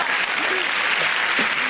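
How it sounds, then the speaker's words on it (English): Loud, dense studio audience applause at a British TV comedy panel show, steady and full for nearly two seconds, with a few voices faintly audible through it. "only I get the round of applause"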